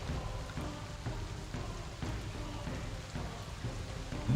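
Steady soft rain falling over a quiet background, a faint even patter with no talk, used as ambience at a tabletop game session.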